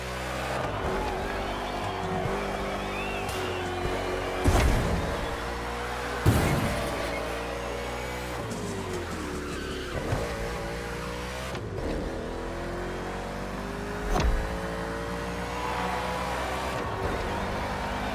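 A race car in The Crew Motorfest driving game roars continuously, its engine revving and shifting with brief sharp tire squeals and impacts, and a voice speaks over the engine noise.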